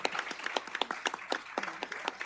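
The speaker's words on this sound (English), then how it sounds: "Could we give a round of applause for all the work they do?" Audience applause at a city council meeting, a modest run of distinct, fairly sparse claps from a small group, moderately close and with no talk over it.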